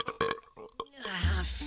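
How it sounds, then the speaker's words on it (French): A troll belching in an animated French cartoon series: a long, loud, rumbling burp rising out of the end of a spoken line, harsh and gravelly, following several short vocal bursts. "Oh, un vrai rot de troll."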